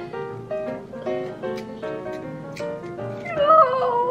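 A pet cat makes a series of short, tonal meows and whimpering cries in quick succession, close and clear, rising a little louder near the end.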